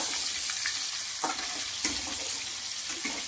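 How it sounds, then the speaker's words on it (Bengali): Potatoes frying in a pan with salt and turmeric powder, a steady close sizzle with a few soft stirring scrapes, no voices. "আপনারা দেখতে থাকুন আলুটা আমি ভাজছি"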